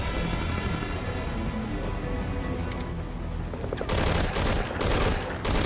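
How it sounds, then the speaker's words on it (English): Sustained gunfire in the video game Metal Gear Solid V: Ground Zeroes, a dense continuous rattle of rapid shots that swells louder with heavier bursts near the end. "They're shooting me."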